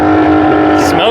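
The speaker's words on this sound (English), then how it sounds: "Smoking them tires." A car doing a burnout and smoking its tires gives a loud, steady engine roar with tire noise that stays sustained through the whole moment, while people talk over it.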